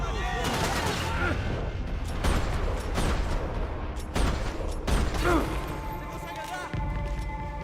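Gunfire in Max Payne 3: repeated loud shots and bursts in uneven clusters, punctuated by impacts, with someone talking over the action.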